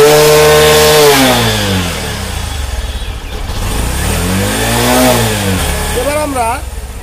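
A Bajaj Discover 125 motorcycle engine, under repair for pickup and rev-meter problems, revs up and down repeatedly, its pitch rising and falling in sweeping waves, loud and close, with a quick burst of revs near the end.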